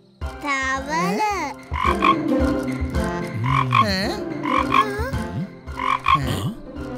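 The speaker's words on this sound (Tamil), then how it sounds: "தவளை வந்தது, மழையும் வந்தது." An animated frog in a kids' cartoon gives a series of loud, bouncy croaks with rising and falling pitch, spaced a second or so apart.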